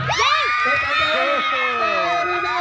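A football crowd cheering after a goal, a loud sustained roar with shrill whoops and shouting voices rising and falling throughout.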